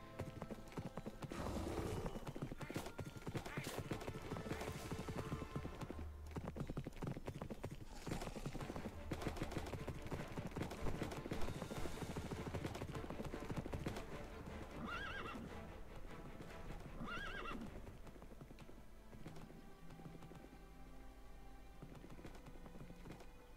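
In Minecraft Dungeons, a horse's hooves clip-clop in a steady rhythm alongside repeated neighs and whinnies. Busy game effects and music play at a fairly quiet level throughout.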